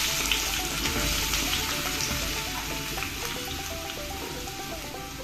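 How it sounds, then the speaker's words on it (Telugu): Chopped onion pieces sizzle and fry steadily in hot oil for an egg curry, a continuous close crackling hiss with no talk. "గోల్డెన్ కలర్లోకి వచ్చేంత వరకు ఫ్రై చేసుకోవాలి ఉల్లిపాయని."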